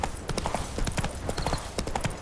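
Roach, the horse in The Witcher 3, gallops in a rapid, loud, close drumming of hoofbeats that runs through the whole moment.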